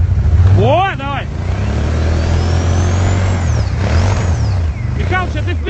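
A snowmobile stuck in snow revs its engine hard to break free, a loud steady roar with whining pitch swings, while people shout and talk over it.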